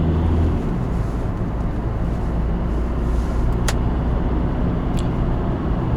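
Steady low rumbling road and engine noise inside a small car while driving, a constant loud drone with two faint brief clicks partway through.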